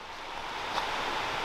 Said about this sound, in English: I've been hearing that water for a long time and I still don't see it.